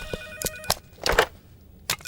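A telephone rings in bursts of bright electronic trills with short gaps between them, heard alone indoors in a comedy scene with no talking.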